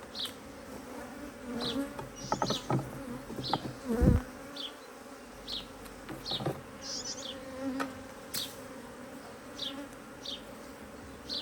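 Honey bees buzz steadily at a hive opened for an early-spring inspection in swarming season, a dense close drone with individual bees zipping past the microphone in short louder passes.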